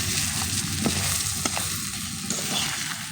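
Prawns fry in a pan until red and well done, giving a dense, continuous sizzle with a few sharp crackles and stirring clicks scattered through it.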